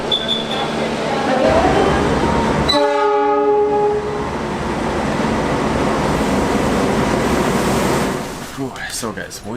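An Indonesian economy train pulls away from the station, a long horn blast sounding once before it settles into steady rolling rumble and rail clatter, heard from inside the carriage.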